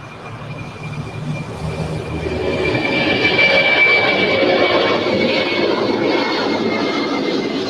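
Airliner taking off at LAX airport, a broad jet engine roar that swells over the first few seconds and then holds loud and steady, with a faint tonal whine over it.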